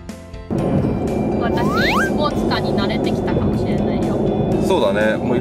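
A Chevrolet Camaro's loud, throaty engine roar fills the recording after a sudden start, sustained and powerful, with people's voices and rising whoops faintly layered over it.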